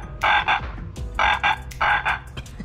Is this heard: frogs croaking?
yes